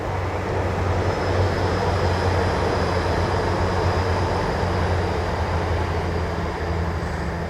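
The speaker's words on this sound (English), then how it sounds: "Oh, there's a train coming, look." A train passes along a railway track by a riverside walk near Taunton, a loud, steady, continuous rumble and rolling roar that holds close for the whole stretch.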